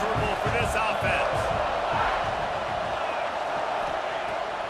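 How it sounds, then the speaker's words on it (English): A home football crowd roars in a stadium, a dense sustained wall of cheering and shouting that stays loud and steady, with voices mixed into the din. "the home crowd going absolutely bananas?"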